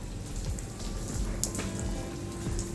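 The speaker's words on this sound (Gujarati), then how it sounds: "બહુ તેજ હો રહ્યો હે વરસાદ આવી રહ્યો છે" Steady heavy rain pouring down, a dense continuous hiss with scattered drips and splashes, no voices.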